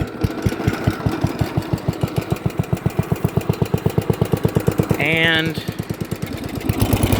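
A small engine on a build-off machine runs at idle: a close, loud, steady chug with rapid even firing pulses. A short rising whir near the end briefly blips over the rhythm, and a voice says a single word.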